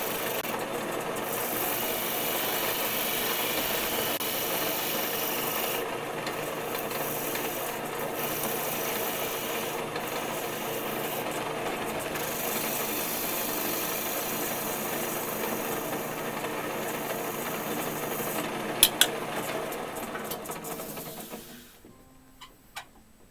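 A Forstner bit drills into wood turning on a lathe, a continuous whirring, chattering machine noise with rhythmic grinding texture, close and steady for about twenty seconds before the lathe slows and goes quiet, with no talking.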